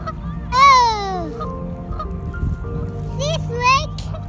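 Several geese honk nearby, a loud call followed by a few more overlapping honks, over a low background rumble.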